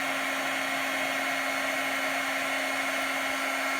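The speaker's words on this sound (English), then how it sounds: "I'm bringing it right out of the heat gun" A heat gun blows hot air in a steady, loud, unbroken whir with a constant motor tone, close by and with no talk.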